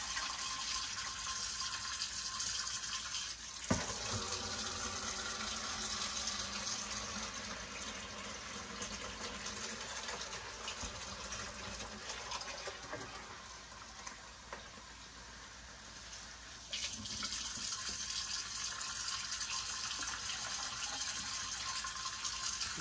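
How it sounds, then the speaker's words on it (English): Water runs continuously into a soup pot while chicken noodle soup is being made, a steady hissing fill with no talk. "So I'll put the water in there"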